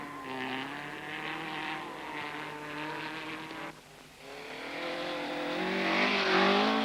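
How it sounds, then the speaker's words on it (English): A 1970 Saab rally car driven by Tom Trana heads into a snowy forest stage, its engine revving and droning at mid distance, dipping briefly before rising again to a louder, higher-pitched run. "Winding up this group of cars is Tom Trana in a Saab, who moves out into the forest where it's starting to snow."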